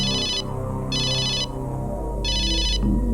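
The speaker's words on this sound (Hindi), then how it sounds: "बार बार फोन आ रहा है।" A phone ringtone sounding in three repeated electronic bursts, loud and close, with a steady low hum underneath and no talking.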